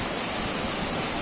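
Bambarakanda waterfall in Sri Lanka, the country's tallest cascade, swollen by days of heavy rain, gives off a dense, loud, continuous roar of rushing water with no voices.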